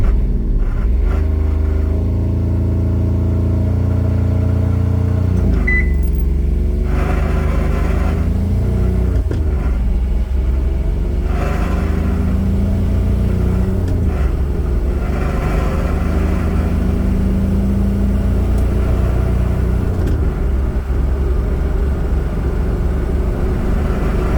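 A Honda car with a three-cylinder Kubota D722 diesel and a variable-geometry turbo launches and pulls hard, its loud droning engine note climbing through gear changes in a steady close-up roar.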